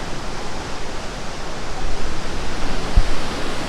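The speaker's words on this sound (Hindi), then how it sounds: "और वहाँ पे वाटरफॉल है" A waterfall inside Gupteshwor Mahadev Cave in Pokhara, Nepal gives off a loud, unbroken, hissing roar that fills the space evenly from start to finish, with no voices.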